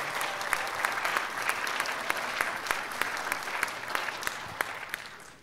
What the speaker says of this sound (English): Let's all give Zach another round of applause.